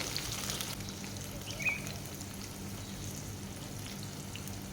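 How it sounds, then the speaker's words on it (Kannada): Breaded brinjal slices fry in a pan with a soft, steady crackle and sizzle, quiet and continuous with no talking. "ಈಗ ಒಂದು ಸೈಡ್ ಈ ಥರ ಫ್ರೈ ಆಗ್ತಾ ಬರುವಾಗ"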